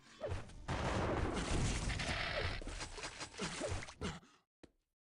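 Grenade spam in the arena shooter Quake Live: a dense, chaotic barrage of explosions and bursts, fairly quiet overall, fading out abruptly near the end.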